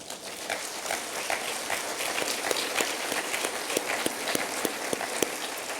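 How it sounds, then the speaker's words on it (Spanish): Applause from a church congregation at a Spanish-language service, a fairly soft but continuous patter of many hands clapping, with some sharp individual claps standing out and little talk. "¿Cuántos le dan un aplauso al Señor, hermanos?"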